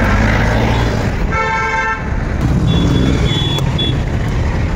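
Busy bypass road traffic heard from an auto rickshaw, with a loud continuous engine and road rumble, a sharp horn toot near the middle and a further faint horn later.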